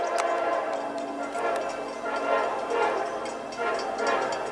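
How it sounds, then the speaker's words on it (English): A loaded southbound coal train rolls past on the main line, a steady loud rumble and clatter of wagons, with a brief horn-like tone at the start. "And there it goes, another train, southbound, loaded coal train by micro."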